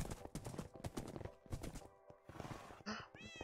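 Hooves clip-clop steadily from a horse in a video game, closing with a short neigh or whinny, heard up close with some game noise around it.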